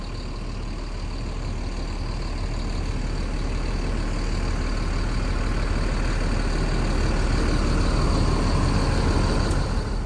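A Sinarjaya intercity bus idles at a stop on a Jakarta to Bukittinggi trip. The engine gives a loud, close, continuous low rumble with a steady hum and no voices.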